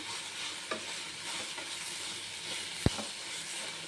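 Chopped vegetables frying in a pan for paddu, a steady close sizzle and hiss with occasional scraping stirs and one sharp knock against the pan.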